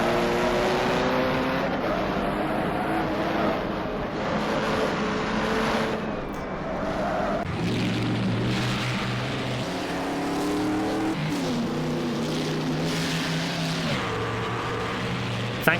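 Several 1939 Grand Prix race cars roar through a racing sim at Spa-Francorchamps, engines rising and falling in pitch through gear changes, loud and sustained the whole way.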